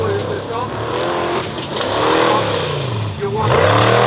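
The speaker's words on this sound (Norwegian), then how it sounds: "Lukas starter motoren" A Formula Offroad race car's engine starts and revs at a Norwegian championship round on the KNA Telemark track, rising and falling roars heard under steady commentator talk.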